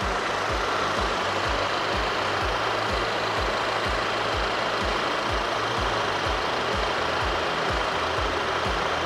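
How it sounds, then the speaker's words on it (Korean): An Audi A4 B8 2.0 TFSI quattro's engine idles steadily up close, a low, even chugging with a regular knocking rhythm and no voices. "엔진 소리도 일정하고 좋네요."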